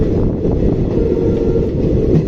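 Train 16545 from Yeshwantpur to Sindhanur pulls into Arsikere junction with a loud, continuous rail rumble and low rolling roar heard from on board, steady throughout without speech.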